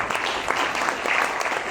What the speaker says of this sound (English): I'd like you to applaud the author for this